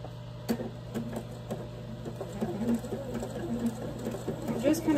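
A sewing machine runs a small zigzag stitch on torn fabric, giving a quick rhythmic mechanical patter in short bursts, with someone talking over it at moderate volume.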